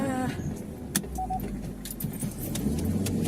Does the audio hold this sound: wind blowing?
no